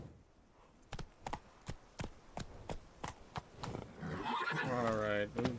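Roach, the horse in The Witcher game, clip-clops at a steady walking rhythm, then lets out a loud, wavering whinny near the end; a person talks over the hoofbeats.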